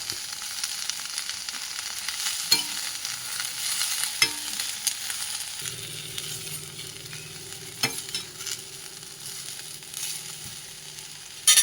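Mint, curry leaves and coriander leaves fry in a pan with a soft, steady sizzle, and occasional faint taps and stirring clicks sound over it.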